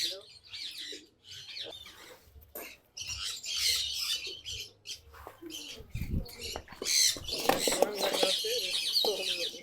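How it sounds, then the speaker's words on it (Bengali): A restless racing pigeon flutters and thrashes inside a basket, giving scratchy bursts of wingbeats and scrabbling that come and go irregularly, growing louder and busier toward the end. "এই যে দেখেন কবুতরটা ছাড়ার পরে আতঙ্কগ্রস্ত, ছটফট করতেছে।"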